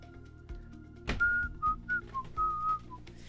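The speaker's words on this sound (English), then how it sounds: "you get to hear my embarrassing whistling" A lone person whistles a short, halting tune of several held notes, close and fairly clear, just after a soft knock, with quiet room noise beneath and no talking.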